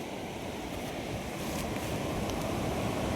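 Waves washing onto the beach of the Arabian Sea at Varkala, below the south cliff: a continuous broad roar of surf mixed with wind buffeting the microphone, steady and fairly loud throughout, no speech.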